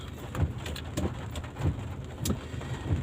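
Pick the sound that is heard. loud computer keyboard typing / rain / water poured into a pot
rain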